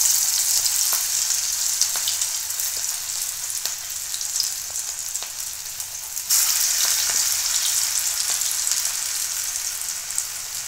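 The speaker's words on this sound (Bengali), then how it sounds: "বাকিগুলোও আমি একইভাবে ভেজে নেব।" Cabbage kofta balls deep-frying in hot oil give a steady, close bubbling hiss with scattered small pops and crackles throughout, alone without speech.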